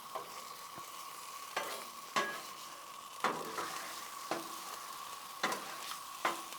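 Cinnamon roll apple pie bites sizzle on a Blackstone griddle while a metal spatula scrapes and stirs them in repeated sharp strokes every second or so over a constant quiet frying hiss.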